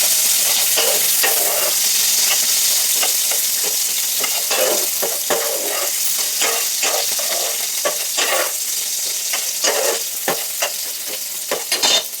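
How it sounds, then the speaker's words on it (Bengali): Chopped onions fry in a hot pan: loud, continuous sizzling with scraping stirs of a spatula and intermittent sharp crackles throughout. "পেঁয়াজটা প্রথমে ভেজে নিতে হবে"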